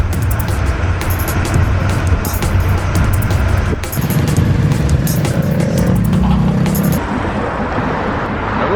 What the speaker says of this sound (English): we're gonna get on this steamy bus